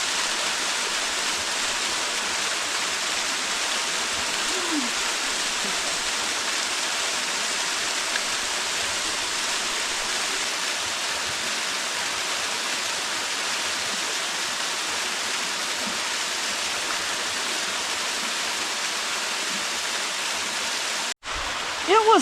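Steady, broadband rush of falling water from a small waterfall, continuous and close, ending with a brief handling knock.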